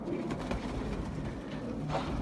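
Red bare-footed pigeons caught on a hunt coo softly in low, repeated phrases over a steady outdoor background.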